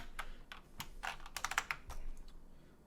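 Quiet, close typing on a computer keyboard while writing a first C program on Linux, a loose run of light key clicks in irregular bursts with no one talking.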